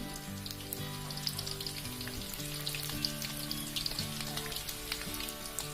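Pempek fish cakes, Palembang style, fry in hot oil with a steady, dense sizzle and crackle that runs throughout, close and fairly quiet with no talking.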